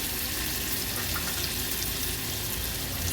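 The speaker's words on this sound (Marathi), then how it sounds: "गॅसची फ्लेम लोवर ठेवते आणि कांदा थोडासा परतून घेते." Chopped medium onion sautéing in a pan on a low gas flame, giving a dense, even sizzle that holds steady throughout, close and moderately loud with no voices.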